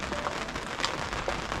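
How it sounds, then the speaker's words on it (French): Steady rain falling on surfaces during a June trip from Calvi to Girolata in Corsica, a dense, even patter throughout with no voices. "Et il pleut chez nous aussi. Il pleut partout."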